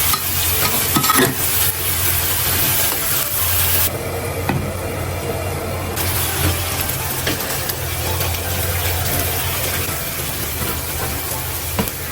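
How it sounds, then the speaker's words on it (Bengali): Eggplant frying in a pan with spices, a steady close sizzle and hiss running throughout with occasional stirring scrapes. "বেগুনটা ফ্রাই করে নিচ্ছি"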